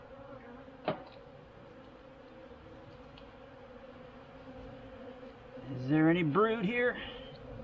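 Honey bees hum continuously around an opened hive during a late-September inspection, a steady close drone, while someone speaks briefly near the end over the buzzing.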